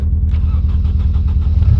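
An MG car's engine, its battery drained overnight, runs with a loud, steady, rhythmic low chug that stays close and even throughout, with no voices.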